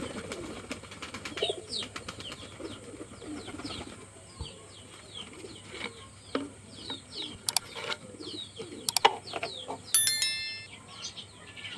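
Pigeons coo softly and repeatedly amid scattered chirps and wing flaps, with a steady background hum and a few sharp clicks, on a rooftop in the rain.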